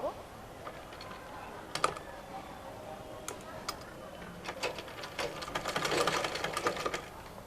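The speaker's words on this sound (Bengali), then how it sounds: "তারপর আমি সেলাইটা করব" A sewing machine stitches a bolster pillow cover along a folded half-inch hem, starting with sparse clicks and short bursts, then building to a faster, denser run of stitching near the end.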